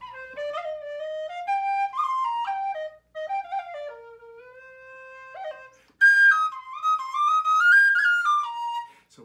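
A series of bright, breathy whistle tones from a Mayan clay whistle, sliding between pitches, played alone with short pauses and a louder, higher passage toward the end.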